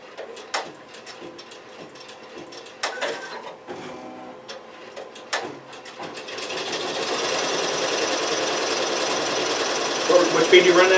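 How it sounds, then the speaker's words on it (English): An Avancé embroidery machine starts stitching after a few seconds of quieter sounds, then runs as a steady, loud mechanical whir with rapid needle clatter. "let it sew"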